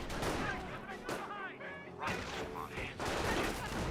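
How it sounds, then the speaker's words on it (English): Sniper rifle shots and infantry gunfire in the real-time strategy game Company of Heroes, a dense run of sharp cracks and bursts over layered battle noise, loud and continuous. "Both snipers just firing against infantry"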